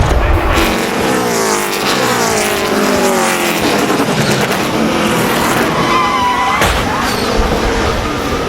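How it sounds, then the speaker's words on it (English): A NASCAR Sprint Cup race car at Martinsville roars into turn one, its wheel hop giving a chattering, skidding tire sound before it backs into the wall, loud and continuous. "You could hear that wheel hop as he was coming down into turn 1. You hear the sort of the chattering, and he just backed it in the wall."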